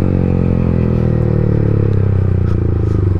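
A scooter engine roars steadily after a downshift, revving loud and close with a rough, buzzing tone and no speech.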